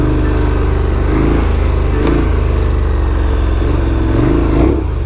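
A dirt bike engine runs on a trail, holding a steady, close, loud drone with a rumbling low end and slight shifts in revs throughout, and no voices.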